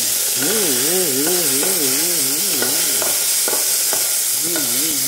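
Beef sautés in a pan with a constant crackling sizzle and stirring scrapes, while a loud warbling, wavering tone rises and falls over it in repeated phrases.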